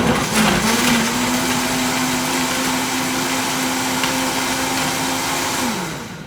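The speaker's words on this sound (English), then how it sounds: "So I'm going to blend this up, and this is going to make 2 smoothies" A blender runs steadily for about six seconds, blending smoothie ingredients with a loud, continuous motor whir that holds one pitch and then winds down at the end.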